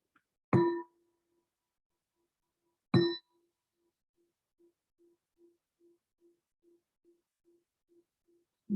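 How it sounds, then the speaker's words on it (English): Two clear strikes of a meditation bell ring out a few seconds apart, each a bright metallic ding that fades into a long, quiet, pulsing hum in an otherwise silent room. "we'll let the bell transition us"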